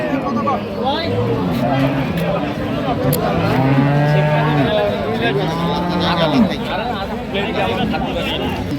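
Holstein Friesian dairy cows moo repeatedly, deep drawn-out calls overlapping one another, with a crowd of people chattering in the background at Ambari market in Dinajpur district.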